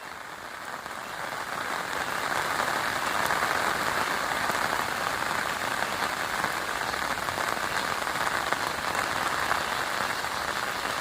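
Rain pours steadily onto surfaces around a riverside survival campsite with a waterproof tent, a loud, continuous patter building in the first seconds and then holding even.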